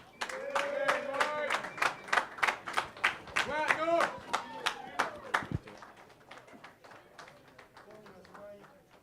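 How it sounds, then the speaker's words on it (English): Applause for a bare-knuckle fighter at a BKFC press conference in Utah: a burst of close, sharp hand claps in quick uneven rhythm, loud at first, then thinning and fading under a background murmur. "a round of applause for Platinum Mike Perry"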